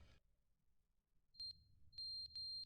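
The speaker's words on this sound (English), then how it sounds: "Oh, the smoke alarm's going off." Electronic smoke alarm in a game scene chirps in high, piercing beeps: one pair, then a pause, then three more in quick succession, loud over a quiet low hum.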